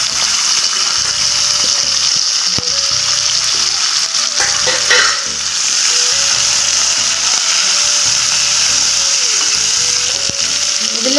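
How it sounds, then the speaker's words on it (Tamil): Green chillies, garlic and onion sautéing in oil for a millet dosa, a loud continuous sizzle close by with steady stirring scrapes layered on top and no one speaking. "பச்சை மிளகா வெங்காயம்லாம் நல்லா வதங்கிடுச்சு"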